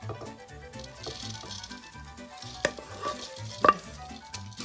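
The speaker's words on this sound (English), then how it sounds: "Okay, now we fried all of our almonds and raw almonds and raw sunflower seeds." Raw almonds and sunflower seeds are dry-fried and stirred in a pan, giving a soft, steady sizzle and patter with irregular scraping taps and a few sharper clinks, all fairly quiet, with no talking.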